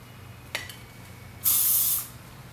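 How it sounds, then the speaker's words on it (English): Hairspray sprayed onto fine hair during a ponytail styling, one steady hiss of about half a second, loud and close, after a faint earlier click, with no talking. "you don't have to use a lot of hairspray, but it's good if you have fine hair like Andrea"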